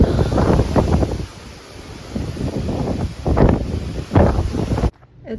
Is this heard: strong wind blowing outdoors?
yes